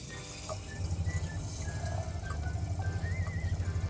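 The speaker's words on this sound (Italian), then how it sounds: "andiamo a riempire il barattolo di acqua" Water pours into a jar of sprouts in a camper, a soft, steady trickling and gurgling stream that runs for several seconds at low volume with no one speaking.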